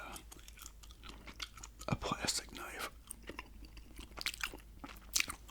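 Close, wet gum chewing in ASMR style, soft irregular smacks and crunchy clicks with a couple of sharper bites, mixed under quiet whispered talk.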